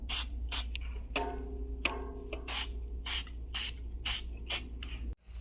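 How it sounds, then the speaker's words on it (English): Orange spray paint hissing from an aerosol can held very close to the surface, in a series of short, loud bursts separated by brief pauses, with no talking. "So we're going to use some more of this orange. And I'm just going to spray"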